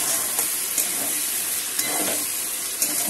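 Capsicum frying in a pan as a paste of cashew, melon seed and poppy is stirred in, giving a steady close sizzle with a few soft knocks of the spoon at regular intervals.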